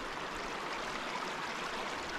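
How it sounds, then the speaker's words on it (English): Creek water rushes steadily over small rapids near a campsite at Millstream Chichester, a continuous broadband wash with no breaks and no voices. "Found a nice little creek and some rapids not too far from our campsite."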